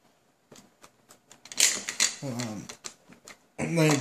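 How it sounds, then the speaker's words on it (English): Screws are run down into a Tamiya 40-foot container trailer model, producing a string of sharp, irregular ticking clicks close by, with someone talking over and between them. "So run these screws down."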